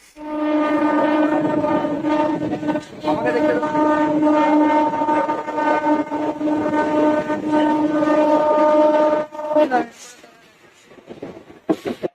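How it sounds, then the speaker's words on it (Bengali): A train pulls into a station with a loud, sustained horn blast lasting most of the time, then rumbling and clatter as it slows and stops. "এই যে আবার পরের ট্রেন এলো এবার এটাই উঠবো"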